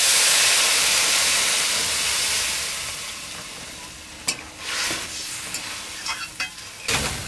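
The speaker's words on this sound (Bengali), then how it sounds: "জল দিয়ে দিলাম।" Water hits a hot pan of rohu fish curry with potato, eggplant and lentil dumplings, giving a loud, steamy sizzle that slowly fades, followed by a few sharp scrapes and clinks of stirring.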